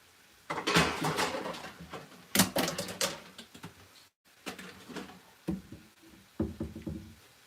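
Non-stick pans clatter and knock during home cooking of eggs. Sharp, close bursts of metallic rattling come in irregular clusters with brief pauses between them.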